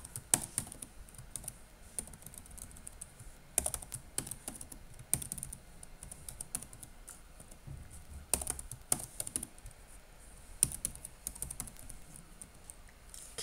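A password is typed on a computer keyboard during Ubuntu Server setup, with quiet, close keystrokes in uneven bursts and a few louder key presses.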